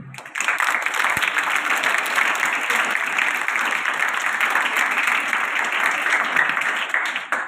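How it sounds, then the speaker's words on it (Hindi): An audience at a DAV school gathering in Nawanshahar breaks into sustained, even applause that holds steady for several seconds before tapering off at the end, with little else heard above the clapping. "वो भी हमारे बीच में तालियां बजाएं।"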